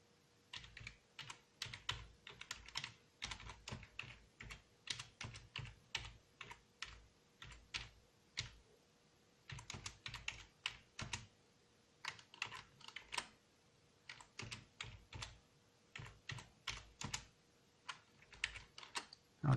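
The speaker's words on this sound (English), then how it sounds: "and we type our message" Fingers type a message on a computer keyboard while running a bulletin board system, producing quick, uneven bursts of close, crisp key clicks with short pauses between words.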